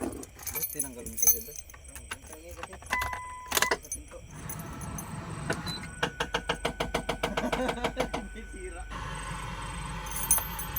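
Car keys jangle and clink near the microphone in a quick rhythmic burst of metallic rattles, among scattered handling noises and a low vehicle rumble.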